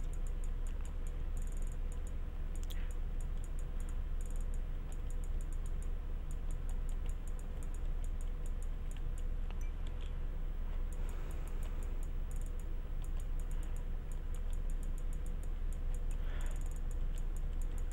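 Faint, irregular keyboard typing clicks patter along at a low level over a steady background hum, with no talking.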